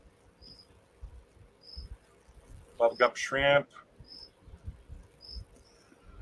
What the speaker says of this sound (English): I hear crickets.